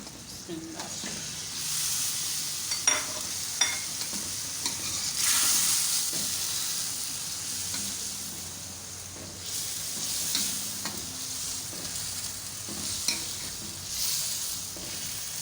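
Beef being fried and stirred into yogurt in a pot for Pakistani achaar gosht, a steady close sizzle with hissing bursts and intermittent scraping stirs, alone without talk.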